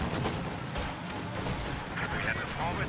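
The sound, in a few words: small arms gunfire in a World War II strategy video game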